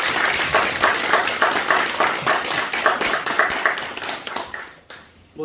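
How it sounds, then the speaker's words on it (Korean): A church congregation at an Easter Sunday service bursts into sustained, dense clapping for about five seconds, loud and close, before the applause quickly dies away. "영광의 박수 올려드리겠습니다."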